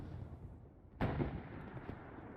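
Bombing-run explosion in the WWII shooter game Hell Let Loose: a single sudden loud blast strikes mid-clip, then trails into a sustained low rumble over steady background battle noise.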